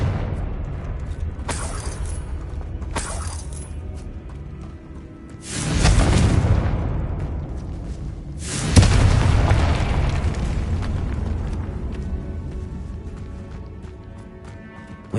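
The Confringo spell in Hogwarts Legacy sets off a deep booming explosion after a few sharp magical cracks, followed by a second heavy blast and a long rumbling tail fading out.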